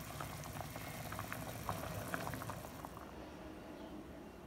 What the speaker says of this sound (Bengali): কাঁঠালের বিচিগুলোকে আমি একটু সামান্য সিদ্ধ করতেছি